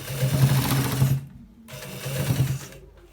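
Sewing machine stitching a part of a designer shirt, two bursts of fast rhythmic whirring close up separated by a brief stop, no speech.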